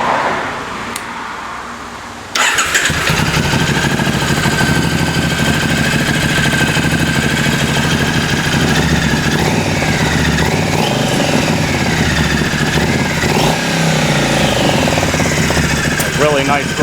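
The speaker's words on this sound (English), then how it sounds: "Smooth rev going on there." A Triumph motorcycle engine runs loud and close after a carburettor sync and pilot adjustment, starting abruptly, then revving smoothly up and down through several throttle blips, and a voice speaks briefly underneath.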